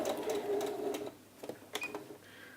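A sewing machine stitching the back yoke panel of a blouse runs in a short quick burst, then stops with a few soft clicks and fabric handling, fairly quiet and close.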